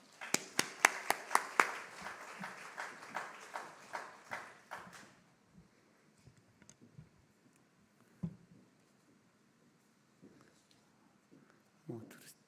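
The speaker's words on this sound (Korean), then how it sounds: "여러분 큰 박수로 환영하면 감사하겠습니다" Audience at a university chapel service claps to welcome a pastor to speak, a short burst of scattered hand claps that fades after a few seconds, followed by quiet room noise and faint movement.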